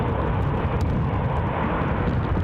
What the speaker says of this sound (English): Looks like we're going to have a Ryanair departure first.